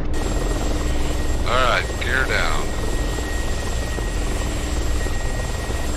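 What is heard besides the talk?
Mi-24 Hind helicopter flying in DCS video game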